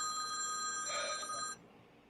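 An old-style telephone bell rings in a steady, bright, continuous trill at close range, then cuts off abruptly, with no talking over it.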